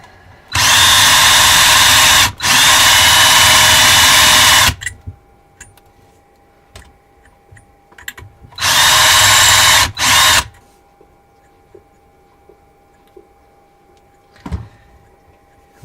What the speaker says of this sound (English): I like to go ahead and chamfer and deburr while it's still chucked up